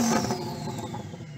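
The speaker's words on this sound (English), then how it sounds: "so I'm going to rev up this Lambo." A tuned Lamborghini's engine revs, then winds down, a fairly faint mechanical whine and drone that falls away over a second or so, with no one talking.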